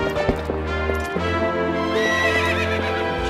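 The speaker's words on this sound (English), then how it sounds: "once you stabilize him you can seize, and that will calm your horse down" A horse in the video game Twilight Princess whinnies loudly and up close, with a few clip-clop hoof steps in the opening second, no voices.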